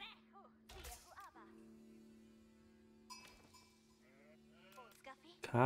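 Several sheep in Age of Empires IV bleat in short wavering calls, some overlapping, over a steady electronic hum with someone talking between them and occasional sharp clicks.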